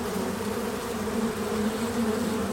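Honeybees buzz densely around a cluster of hives, a loud, continuous drone from many insects close by, with no voices.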